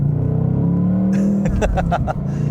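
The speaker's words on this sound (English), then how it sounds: "I love listening to that V8 wind out" A 2025 Ford Mustang Dark Horse V8 engine roars loudly and close, its pitch climbing as it revs up, then a series of rapid mechanical clicks as it winds out.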